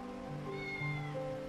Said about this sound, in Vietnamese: Đôi mắt đáng thương của mèo con khiến Lý Tiên Sơn không nỡ rời đi